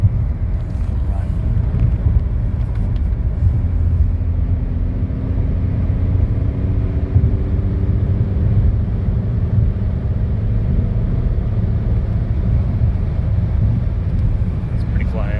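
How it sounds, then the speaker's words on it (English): A VW TDI fitted with a Banks catback exhaust, SMB intake and turbo muffler cruises in sixth gear, giving a steady, loud low drone with constant wind roar from inside the cabin. "this is the test of the Banks Catback exhaust and the SMB intake and the new speed turbo muffler"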